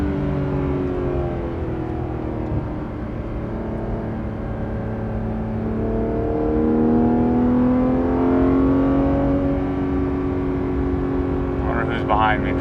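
A Porsche 991.2 GT3 RS engine drones loudly from inside the car, its pitch sliding up and down through gear changes and rising under acceleration, with a brief burst of voice near the end.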